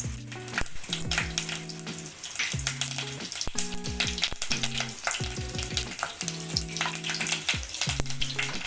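Curry leaves crackle and sizzle in hot tempering oil with steady, dense spattering close by. A repeated low tonal hum rises and falls beneath the frying throughout.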